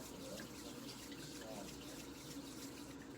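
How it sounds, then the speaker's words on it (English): Warm water running steadily from a tap while hands are washed, a faint continuous splash and trickle with no speech. "washing our hands in warm running water"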